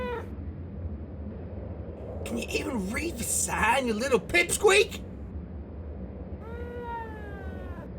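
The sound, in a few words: cat meowing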